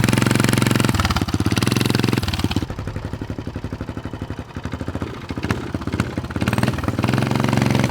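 A small mini bike engine runs loud and close, a rapid pulsing putter with revs rising and falling throughout, no voices heard.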